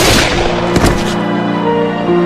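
A single gunshot in a Thai drama scene, a loud sharp blast with a booming tail that decays over a couple of seconds, heard alone with no voices.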